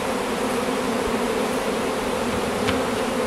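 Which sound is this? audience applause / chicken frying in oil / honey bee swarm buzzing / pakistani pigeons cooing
honey bee swarm buzzing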